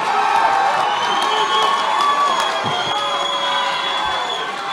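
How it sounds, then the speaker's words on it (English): Fight crowd at the VALOR Fights 18 mixed martial arts event in the Smoky Mountain Convention Center, Pigeon Forge: a sustained, loud roar of cheering, shouting and whistles filling the hall without letup. "You can hear the crowd."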